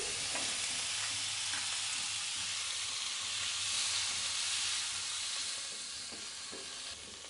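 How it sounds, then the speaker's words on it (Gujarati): Tomatoes sauté in a kadai with a loud, continuous sizzle and hiss, with stirring scrapes throughout, easing slightly toward the end. "ટમેટાં થોડા સોફ્ટ થાય ત્યાં સુધી સાંતળી લેશું।"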